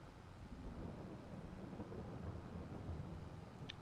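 Thunder rolls as a low, continuous rumble in Farming Simulator 22, played on The Valley: The Old Farm map. It sounds distant and fairly faint, swelling gently without sharp cracks.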